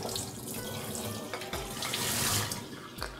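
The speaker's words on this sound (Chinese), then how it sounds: "现在用清水洗去螃蟹两边的泥沙，把两边清洗干净" Tap water runs steadily while mud is rinsed off crabs, a continuous splashing stream with brief surges and drips as the shells move under the flow.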